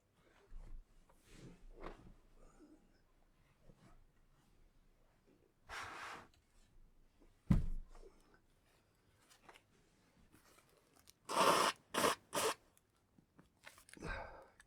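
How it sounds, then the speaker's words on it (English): A person blows their nose several times, short rough snorting and honking bursts separated by quiet pauses, with faint rustling in between. "I'm just gonna have to blow my nose"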